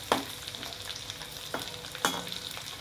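Dried bombil fish sizzling in hot oil for a masala chutney, with a steady faint crackle and a few soft stirring scrapes in the pan, no voices.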